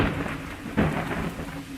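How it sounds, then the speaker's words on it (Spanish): A strong thunderstorm pours heavy rain in a dense, steady roar, with a deep rumble of thunder swelling near the middle of the short stretch. "Una fuerte tormenta se desató"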